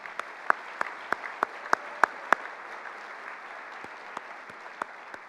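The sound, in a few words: applause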